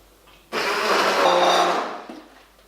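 A kitchen blender whizzing roast vegetable soup with coriander starts abruptly after a brief pause, holding a loud, steady whir for about a second and a half before winding down to a stop.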